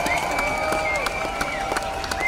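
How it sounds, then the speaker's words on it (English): Crowd at an outdoor rally outside a court applauding, scattered clapping and cheering under a sustained tonal drone, bursts of claps recurring throughout. "Please give them a huge round of applause"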